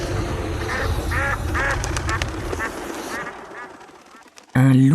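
Duck quacking as an audiobook sound effect, several nasal quacks over a dense, busy effects bed with a sudden loud burst at the end.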